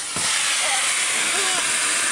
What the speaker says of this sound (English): Turn the vacuum off and say goodbye.